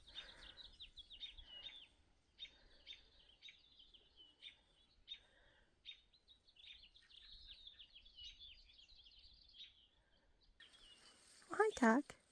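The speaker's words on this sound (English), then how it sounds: "I live in a bird sanctuary," Birds chirp and twitter around a home in a bird sanctuary, in repeated bright calls at moderate distance, with a louder, closer call near the end.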